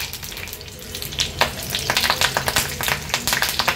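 Curry leaves crackle and spit in hot oil in a kadhai, a dense, steady sizzle broken by sharp pops that grow busier partway through, close and fairly loud with no talking.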